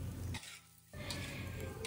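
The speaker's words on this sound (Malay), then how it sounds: "Teruskan kacau sehingga dia masak sekata." Nasi goreng being stirred and fried in a pan for breakfast, a steady sizzle with scraping stirs against the pan, broken by a brief quiet gap before the frying noise resumes.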